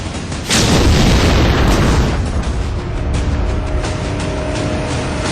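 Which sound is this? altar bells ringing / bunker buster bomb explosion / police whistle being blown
bunker buster bomb explosion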